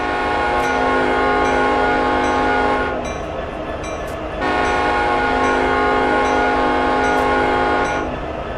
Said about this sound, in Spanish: 2 bocinazos largos